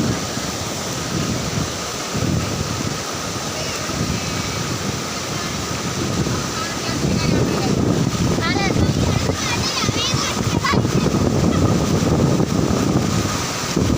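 Floodwater from paddy fields rushing across a damaged road into a reservoir, a continuous loud roaring wash with wind buffeting the microphone and a voice talking over it.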